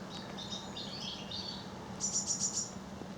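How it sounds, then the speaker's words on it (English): Faint blue tit song in a quiet woodland clearing: scattered high chirps, then a quick run of five bright, evenly spaced notes, over a low steady hum. "Blue tit in the background there."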